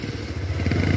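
A Bullet motorcycle engine thumps past at close range on a village road near a chowk, a loud, steady low-pitched rumble that swells toward the end as the bike draws nearer.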